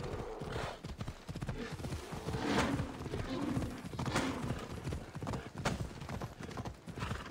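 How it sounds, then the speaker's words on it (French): Horse hooves clip-clopping in Assassin's Creed Odyssey as the character rides, with a steady, rapid rhythm of hoof hits under game ambience and a faint whinny. "On va prendre le cheval."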